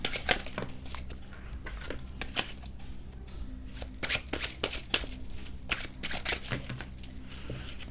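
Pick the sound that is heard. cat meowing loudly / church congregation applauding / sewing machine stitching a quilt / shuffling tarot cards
shuffling tarot cards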